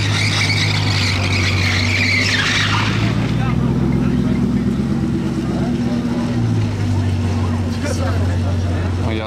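A Bugatti Chiron Pure Sport in blue carbon drives through Monaco streets, its engine rising loud and close, tires squealing at one point, then the roar falling away, heard over people talking.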